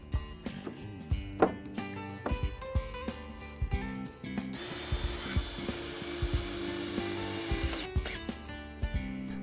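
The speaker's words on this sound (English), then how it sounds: "Use a jigsaw to cut out the scrap and fit the boards into place." A jigsaw cuts scrap out of wooden boards for a potting table build, with short bursts of sawing and handling knocks, then a loud sustained cut for several seconds, close up and without speech.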